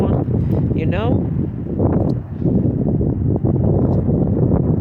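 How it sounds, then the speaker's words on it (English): Strong outdoor wind buffets the microphone in a constant loud roar and rumble, while someone talks over it throughout. "there's a lot of wind"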